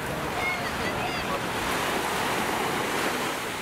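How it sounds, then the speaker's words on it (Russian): Sea waves wash steadily onto a hotel beach in Alanya, Turkey, on a calm July evening, a continuous close surf hiss with light wind noise and nobody talking. "Море."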